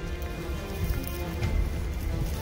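Light drizzle falls on a mountaintop, a steady soft patter of raindrops with a broad, even hiss and no voices.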